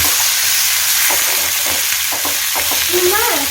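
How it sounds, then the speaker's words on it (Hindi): Mixed vegetable sabji with cashews and tomatoes sizzles loudly and steadily in a pan, with close scraping and stirring sounds through the whole stretch. "अभी मैं इसे अच्छी तरीके से फ्राई करूंगी।"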